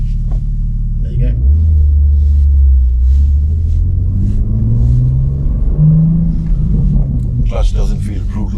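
A supercar engine rumbles low and steady, building as the car pulls away from a stop on a UK road, its deep drone rising in pitch through acceleration with faint cabin noise around it.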